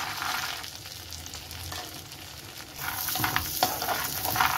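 Almonds and cashews lightly frying in a pan, a soft steady sizzle with occasional stirring scrapes that grow a little louder toward the end.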